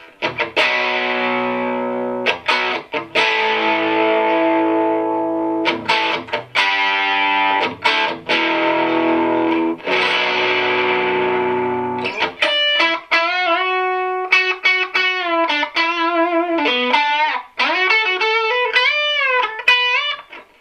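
Electric guitar through a PRS SE50 amplifier with the bright switch on and moderate distortion, playing a clear rhythm tone: loud, sustained strummed chords, then a run of single-note lead lines with bends near the end.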